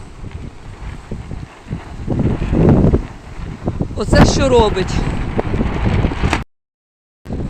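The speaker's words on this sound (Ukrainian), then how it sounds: "Це сьогодні якийсь страшний буревій." Strong gusting wind roars and buffets the microphone while someone speaks over it, then cuts briefly to silence near the end.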